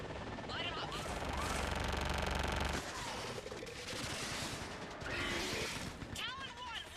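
Air support gunfire in Mass Effect 3, a dense, continuous barrage of rapid shots and explosions, loud and close, with radio voices talking over the din.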